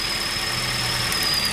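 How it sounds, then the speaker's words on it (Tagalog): A car engine idles with a steady mid-pitched hum and a faint high whine while one cylinder misfires during an ignition coil check, making it shake a little. "ayan, nanginig din yung makina."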